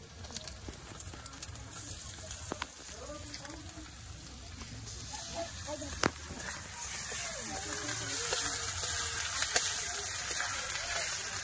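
Ginger-garlic paste hits a pan of frying onions, and a steady hiss and sizzle builds louder toward the end, with a voice faintly under it.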